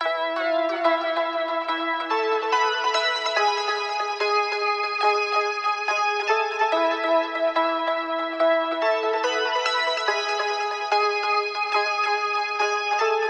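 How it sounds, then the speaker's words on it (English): Electric guitars are layered in a shimmering, bell-like pattern that repeats steadily, washed in spacious reverb with no low end. "record this electric guitar back here, but then I threw on a whole bunch of effects"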